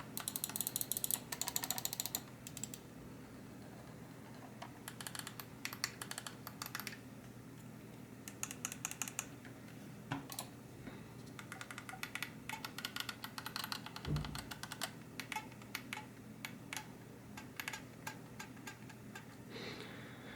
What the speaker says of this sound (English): listen to the mouse quickly in terms of the mouse clicks